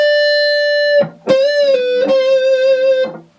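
Electric guitar playing a whole-step bend and pull-off, a sustained clean note bending up and down twice, with sharp pick attacks and a brief gap between phrases, close and loud.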